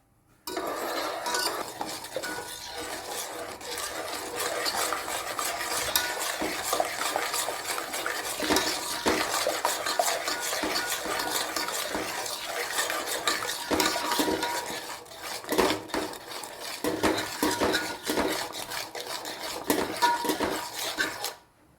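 Hot starch paste for stiffening clothes is stirred by hand in a pot on a gas stove: a constant close scraping and clinking of a utensil against metal, with occasional louder knocks and no speech.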